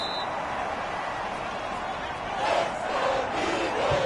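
A stadium crowd in a video game football match roars steadily, swelling louder toward the end, with a commentator talking over it.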